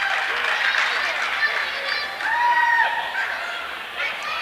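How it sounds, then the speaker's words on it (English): A high school basketball tournament crowd in a gym lets out a swelling wash of oohs and ahs and scattered cheers, loud and diffuse, with voices mixed throughout. "Ojala gets a lot of oohs and ahs from the crowd on that"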